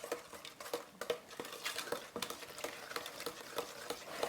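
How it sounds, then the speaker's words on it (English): Spoon stirring and blending ingredients in a bowl for toffee chunk brownies, close up, with a steady run of clinks and scrapes against the bowl, some sharper taps recurring rhythmically. "use your spoon, blend it all well before you add the next ingredient"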